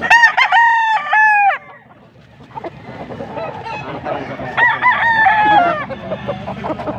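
At a poultry market in Pampanga, a loud, close rooster crow rings out, followed by a busy chorus of chickens clucking and squawking over one another.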